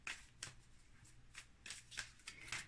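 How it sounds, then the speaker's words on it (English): Tarot cards being shuffled by hand in a quiet room, a series of crisp riffling bursts repeating in an uneven rhythm, close and fairly soft, with no talking. "Let's shuffle this once more."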